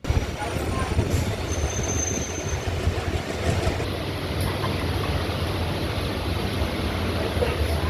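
An electric EMU suburban train runs from Tambaram toward Egmore, a steady rumbling roll of wheels on track with a high whine that comes in partway, heard from inside and continuous throughout.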